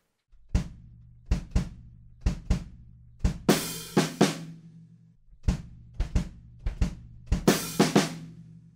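An opening drum fill: sharp hits with low kick thumps, two bursts of crash cymbal wash, then the pattern repeats, played alone on a drum kit and fairly loud.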